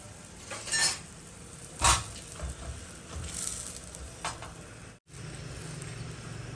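A roti and bottle gourd cook side by side on an oiled tawa, giving a low continuous sizzle broken by a few soft clinks and scrapes of utensils.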